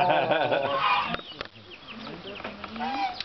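A bird gives a series of loud, close clucking calls in quick bursts, mixed with people talking nearby.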